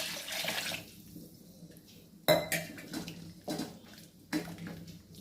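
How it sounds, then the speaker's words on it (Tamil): Water is poured and splashes into a metal pot while making country chicken curry, with clanks of cookware and brief bursts of pouring in between. "ஊற்றிக்கோங்க தண்ணியை."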